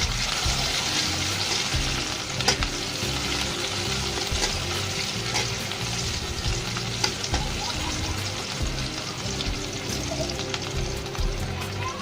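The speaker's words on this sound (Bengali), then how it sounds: "রসুন এবং শুকনো মরিচ দিয়ে দিলাম" Garlic, onion and dried red chili fry in hot oil with a continuous close sizzle and scattered pops and stirring scrapes, with no talk.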